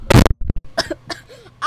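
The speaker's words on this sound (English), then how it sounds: "but then I coughed" A single sharp cough bursts out loud and close at the start, followed by a few short breathy sounds and quiet voice fragments during a Pokémon card opening.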